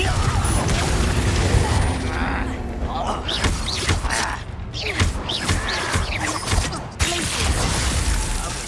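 A Confringo spell blast goes off in Hogwarts Legacy amid a chaotic duel, loud crashing impacts and crackling bursts under continuous voices and combat noise.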